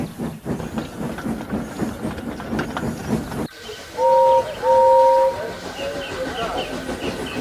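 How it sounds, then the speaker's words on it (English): A steam locomotive chuffs and rumbles nearby, then two loud whistle blasts ring out over the hissing engine. "Later that morning, Gordon sleepily brought his train to the junction"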